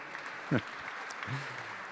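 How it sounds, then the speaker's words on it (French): Audience applause at a gastronomy and wine awards ceremony honouring a promising young chef. It is a brief burst of clapping with some voices mixed in. "Benjamin Sanchez, sous vos applaudissements."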